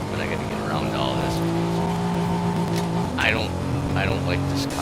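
A race car engine in Forza Horizon 5 drones and revs steadily with gear shifts and tire noise, heard close, while someone talks over it.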